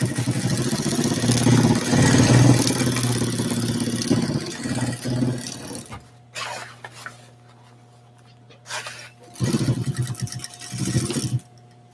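A sewing machine runs steadily for about six seconds while double stitching along a side seam, then gives two shorter bursts after a pause, each one loud and close, with a low hum between runs.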